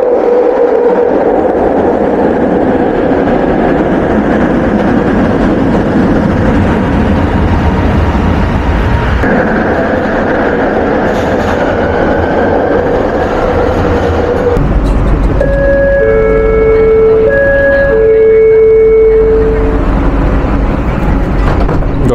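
A Kuala Lumpur metro train at Bangsar station makes a steady, loud rumble and roar on the platform, then a run of short electronic door chimes sounds near the end.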